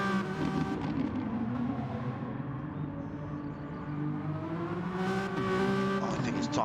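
Renault Megane Trophy race cars running side by side down the start-finish straight, a continuous loud engine drone with shifting revs and gear changes, accompanied by a commentator speaking over it.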